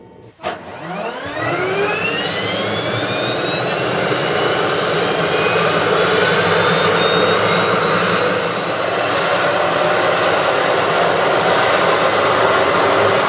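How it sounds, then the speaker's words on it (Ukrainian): The 1500-horsepower gas turbine engine of an M115 mine-clearing vehicle spools up from a sharp start into a loud, rising whine that settles into a constant, roaring drone, close by. "Якщо ви не зрозуміли, зараз машина заведена"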